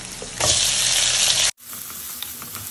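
Garlic, then onion and tomato, hit a hot pan in a loud, close sizzle that cuts off abruptly midway, leaving quieter crackling and faint stirring.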